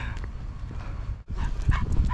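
A dog rescued in Mariupol barks and whimpers close by in short, uneven yips and whines, with a brief pause partway through.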